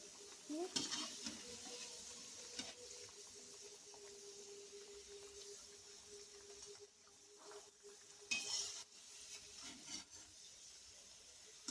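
Methi (fenugreek) vadas frying in hot oil, a steady low sizzle with occasional scraping and stirring clatter from a utensil in the pan, heard close up with no talking.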